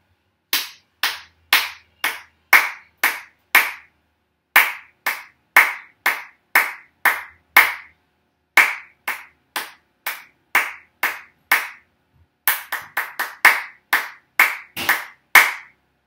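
Hands clap out the rhythm of the song Tidy-O during a classroom music lesson. One person claps crisp, close beats in short phrases separated by brief pauses, with no talking.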